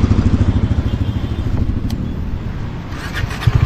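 A motorcycle rides along the mountain road from Lachung to Gangtok via Dikchu in North Sikkim. Its engine throbs in close, steady low pulses that ease off slightly midway, with light rattles and scrapes and no talking.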